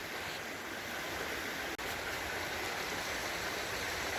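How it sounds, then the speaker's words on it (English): Water rushing over rocks in a small New Hampshire river during gold panning, a continuous loud, full splashing roar with one brief dropout midway. "take my bucket, get water, pour water over the top of it, and get it to go down into the hole"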